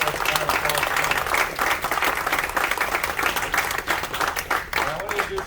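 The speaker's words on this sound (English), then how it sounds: "I think we should just give all of them one more round of applause" Audience applause at a magic theatre ensemble show's grand opening, a dense, continuous round of clapping from a crowd, with some cheering mixed in throughout.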